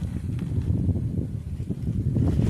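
Wind gusting across an outdoor camp, a low rumbling buffet of noise on the microphone with faint rustling, steady and close, with no voices.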